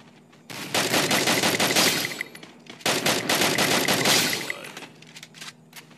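Bursts of rapid automatic gunfire from the video game Garena Free Fire, two long volleys of loud, dense shots separated by a brief pause, then a few trailing shots.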